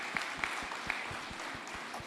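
A crowd applauds steadily, a dense patter of many hands clapping together at moderate volume without a break.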